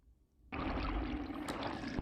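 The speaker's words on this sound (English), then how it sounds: "Let's see what that looks like during a torrential rain when you have a GoPro in one of these pipes." Torrential rainwater gushes into a perforated drain pipe of a yard French drain, starting suddenly after a quiet moment as a loud, dense pouring rush heard from inside the pipe.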